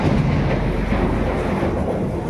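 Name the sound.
thunder during a storm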